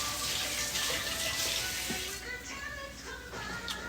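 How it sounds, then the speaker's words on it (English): Hands rinsed under a running kitchen tap, a steady close hiss of flowing water with shifting splashes as the hands move through the stream, no talking. "Let me rinse my hands off."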